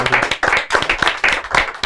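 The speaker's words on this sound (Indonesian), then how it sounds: "Tepuk tangan lah buat Andi" A stand-up comedy class audience claps in a rhythmic, fairly loud burst of hand claps, with individual slaps audible in quick succession.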